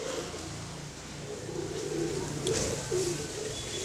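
Pigeons coo in a low, continuous murmur of overlapping calls, with a couple of slightly louder coos near the end over a steady background hum.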